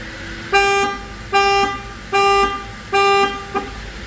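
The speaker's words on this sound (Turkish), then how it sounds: "Orijinal alarmımız." The factory alarm of a Volkswagen Passat B8 blares four loud, evenly spaced honking blasts, each about half a second long, close by and with nothing else over it.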